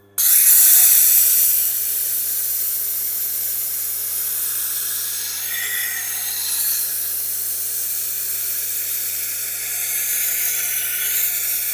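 A Tormek sharpener grinding a badly damaged Global knife on its stone gives a steady, loud, hissing wet-grinding rasp that starts abruptly and continues unbroken, with no talk.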